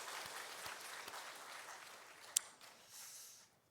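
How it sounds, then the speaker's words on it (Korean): Church congregation applauding its volunteers and worship team, a steady patter of many hands that stays fairly quiet and fades out toward the end. "우리 박수로 한번 격려하겠습니다."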